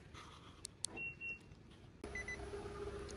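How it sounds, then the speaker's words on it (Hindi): Car key fob for a Nissan Note X triggers faint electronic beeps and a soft click of the central locking, quiet and close against low background hum, with no speech. "ये इस गाड़ी की चाबी है लॉक अनलॉक और ट्रंक रिलीज के साथ"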